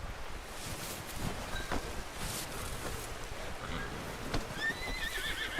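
A horse neighs and whinnies in Red Dead Redemption 2, with hoofbeats clip-clopping along a rustling outdoor trail in the game; the whinnies rise over steady background noise near the middle and end.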